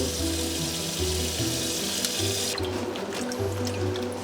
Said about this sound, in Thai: เวลาล้างบรอกโคลี เราควรที่จะแยก ออกมาเป็นดอกๆนะคะ